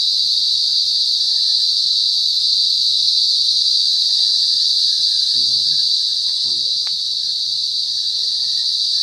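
Crickets singing outdoors at night along a muddy walking path, a loud, continuous high-pitched trill holding steady throughout, with faint footsteps and a brief voice underneath.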